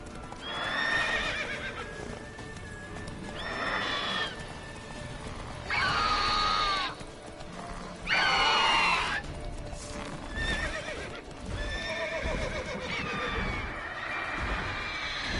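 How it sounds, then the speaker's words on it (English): In a video game, a horse neighs and whinnies loudly several times over a steady clip-clop of hooves, with no talking. "Giddy up. Not so fast, Roach"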